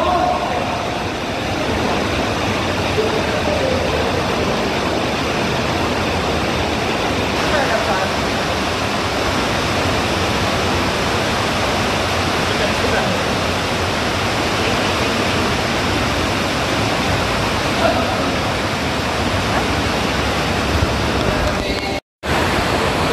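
A small waterfall inside the Jobellar underground river in Albay, Bicol, roars steadily and close by, a dense continuous wash of falling water that fills the whole stretch with hardly any break.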